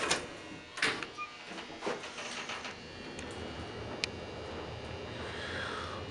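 A Dover traction elevator runs inside an office building, giving a steady mechanical hum with a few soft clunks and a sharp click partway through, heard close from inside the car.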